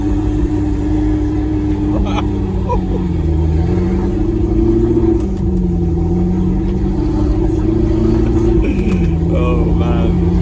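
An Audi R8 engine with a newly fitted exhaust revs loudly up close, rising and falling through deep, throaty swells over a steady idle rumble.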